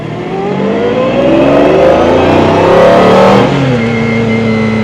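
An open-top sports car engine heard from inside the cabin revs up loudly with a rising whine from the gearbox, then settles back to a steadier hum at the end.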